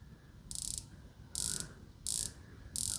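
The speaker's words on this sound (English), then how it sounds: "Let's take a listen to the bezel action because I hear it's outstanding." Crisp ratcheting clicks arrive in four short bursts as a Rolex dive watch bezel is turned, close up and quiet, with pauses between turns and no talking.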